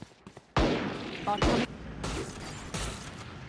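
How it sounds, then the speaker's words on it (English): Gunfire in a Valorant match comes as several separate loud bursts of shots between lulls, mixed with game effects and played under commentary. "You see Carter just firing into the smoke."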